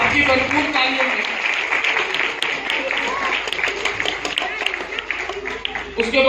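Applause from a gathered crowd at a Christmas celebration and cake-cutting ceremony, a dense steady patter of clapping mixed with a voice talking over it.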